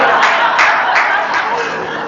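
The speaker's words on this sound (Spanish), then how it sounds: "Ese aplauso te puede salir caro" A congregation at a sermon breaks into loud, sustained applause, a thick wash of clapping with some crowd murmur and laughter blended underneath.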